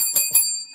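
A bell is struck twice in quick succession, bright ringing tones that sustain and decay; it is the Lambo Bell rung on a talk show set.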